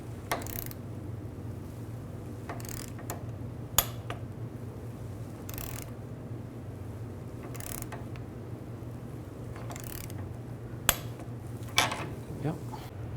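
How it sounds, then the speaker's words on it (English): A wrench and a 14mm socket tighten a front axle bolt on a 2002-06 Chevy Avalanche. Scattered metallic clicks and clanks come at uneven intervals over a faint, steady background hum, with no voices. "wrench up top and a 14mm socket on the bottom. And tighten this down."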